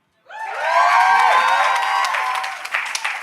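Audience at a poetry battle in Barbados bursts into applause and cheering, a dense, loud wash of clapping with shouts and whoops that swells quickly and holds steady for a few seconds.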